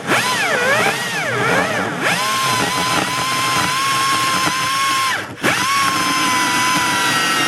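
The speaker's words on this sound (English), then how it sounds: "we'll be using this angle grinder to get into this area" An angle grinder cutting into a Nissan Titan truck panel, a loud sustained whine that rises and dips as the blade bites, with a brief pause before it resumes.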